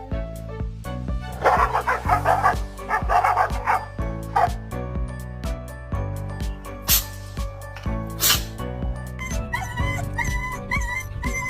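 Household pet dog making repeated yips, whimpers and short bow-wow barks up close while it bites at its bed, with a steady tonal background running underneath throughout.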